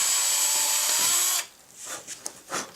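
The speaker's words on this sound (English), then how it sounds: "I'm going to put it in a simple drill and hold it very steady." A handheld drill whines steadily as it reams the wheel opening for a K37 Kadet LT-40 model aircraft, then cuts off after about a second and a half, leaving quiet handling noises.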